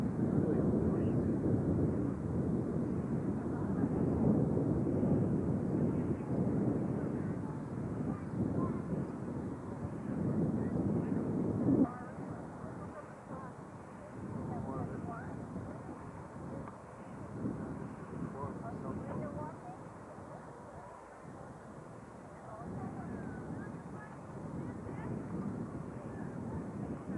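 Strong, steady breeze over a harbor with sailboats out, buffeting the microphone in a continuous low rumble, with indistinct voices faintly underneath.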